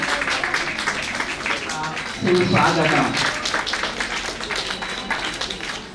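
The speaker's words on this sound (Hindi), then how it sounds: "आप सभी से चाहूंगी प्लीज तालियां बजा दीजिएगा" An audience claps to welcome the chief guest at a Hindi-language ceremony, a dense, continuous patter of many hands that swells around the middle and holds steady, with voices mixed in beneath.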